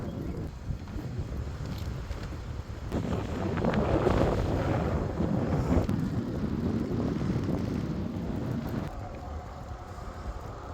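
A direct headwind buffets a cyclist pushing in first gear along the Ohio to Erie Trail, a steady roaring rumble of wind against the microphone that rises and falls in broad gusts for about eleven seconds.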